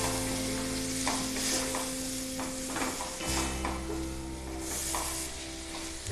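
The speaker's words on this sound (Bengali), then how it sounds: "আমি নেড়ে দেবো।" Spiced chicken mixture with chilli, pepper and cumin powders being stirred in a hot pan, giving a steady close sizzle with repeated spatula scrapes and shuffles, no talk.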